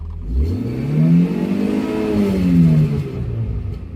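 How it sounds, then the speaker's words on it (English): A car engine revs up, climbing to a high, sustained whine before easing back down, loud and close with no talking. "we're gonna test high revs now."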